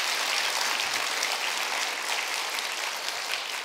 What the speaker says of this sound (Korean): 살아계신 하나님께 영광의 박수를 올려드리시겠습니다.